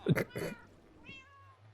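A house cat meows twice in quick succession, close and fairly loud, followed by a fainter, drawn-out tonal sound against a quiet room.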